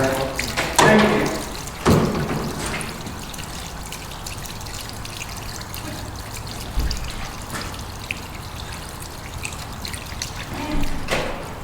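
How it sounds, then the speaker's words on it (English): Hot water runs from a tap into a sink in a steady, moderately loud trickle, broken by a few sharp knocks and clatters and faint voices in the background. "As long as the sink is empty, turn on the hot water"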